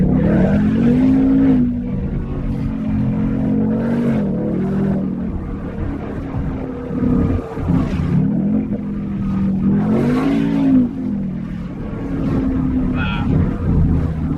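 A 2019 Ford Mustang GT V8 revs hard in traffic, its loud engine note rising and falling in repeated swells, with no talk over it.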